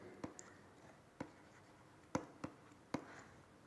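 Chalk or marker strokes on a lecture board, several short distinct taps and scrapes spaced irregularly over a quiet room, with no talk.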